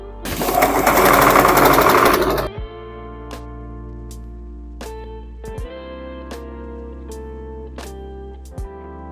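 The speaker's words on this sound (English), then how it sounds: "I think I'll probably just top stitch to give it a neater look." A domestic sewing machine topstitches a skirt, running in a loud steady burst for about two seconds, then stopping to leave quiet room tone broken by a few faint ticks and clicks.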